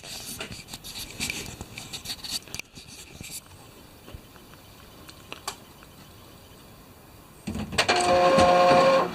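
A Canon printer powering back on after being switched off, giving scattered clicks and mechanical ticks that swell into a loud, steady motorized whirr near the end.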